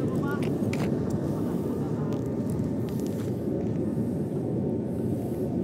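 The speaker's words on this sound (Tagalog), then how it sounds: "May aeroplano." An airplane flies overhead, heard as a steady, broad, low rumble that fills the whole stretch outdoors, with faint human sounds beneath it.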